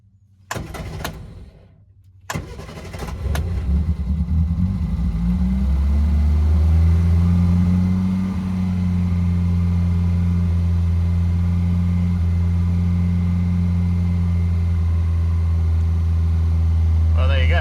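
A cold-blooded old Morris or Reliant car starts cold: a few sharp clicks and bumps, then the starter cranks until the engine catches and settles into a steady, rough, droning idle that runs on to the end.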